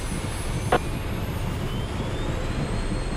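Cessna Citation Mustang twin jet engines roaring at takeoff power on the runway at Van Nuys, a steady broadband rush with a thin high whine, continuous and close from inside the cockpit.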